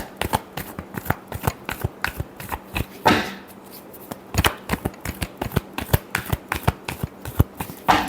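Tarot cards are shuffled close up in a quick run of crisp riffling flicks and slaps, with one longer riffle partway through and no talk over it.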